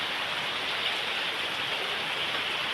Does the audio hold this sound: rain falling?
yes